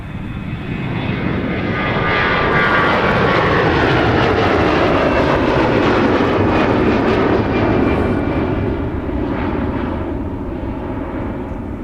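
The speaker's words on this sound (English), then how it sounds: "There's Delta 2125 heading off to San Diego. It's a 321." A Delta Airbus A321 jet takes off at Minneapolis–St. Paul Airport, its engines building into a loud, sustained roar that swells and holds as the aircraft accelerates and climbs away.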